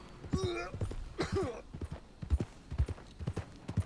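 A horse walks at an even pace in Red Dead Redemption 2, hooves clip-clopping close and regularly, with a couple of short voiced sounds over the top.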